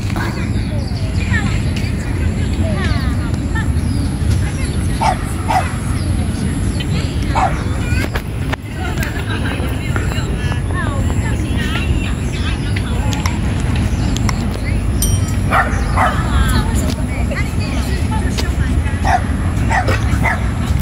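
Dogs bark and yip in short, scattered bursts at a spacious outdoor dog park in Shulin, Taiwan, under steady broadband background noise and a voice speaking.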